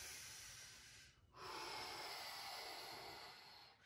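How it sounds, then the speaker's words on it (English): A long, deep inhale drawn in during a plank workout, a steady breathy rush lasting a couple of seconds after a brief pause, close and fairly quiet with no talking. "I'm gonna take a big inhale."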